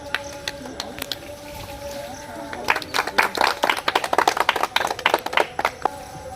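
A small group claps at an Independence Day (August 15) celebration, scattered claps at first building into a quick burst of nearby applause, with voices talking underneath.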